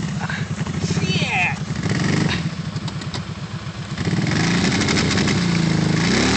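A Kawasaki off-road vehicle's engine chugs and revs while stuck in deep mud, its rough, pulsing rumble rising and falling, with people talking over it.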